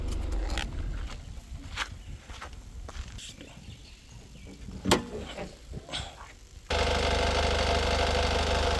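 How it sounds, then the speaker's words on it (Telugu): A 2019 Honda City VX diesel engine idles with a steady, even hum. It follows several seconds of scattered clicks and rustling and continues alone to the end. "ఇంజన్ కూడా స్టార్ట్ చేసిన సార్ ఇంజన్ సౌండ్ కూడా చూడదు"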